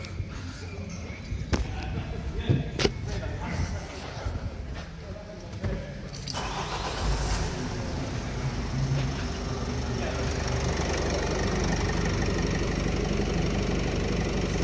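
A Vauxhall Vivaro van with a MAF sensor fault sits idling, a low steady engine hum growing slightly fuller, preceded by several sharp clicks and knocks from work under the bonnet.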